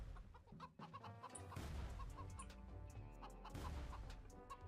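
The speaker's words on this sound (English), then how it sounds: "No, you silly chicken." Chicken clucking in an Unreal Engine video game, repeated short clucks over a steady low hum and game background, fairly faint with no talk.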